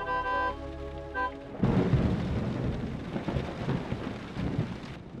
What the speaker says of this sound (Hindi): दादू बारिश तेज क्यों नहीं हो रही?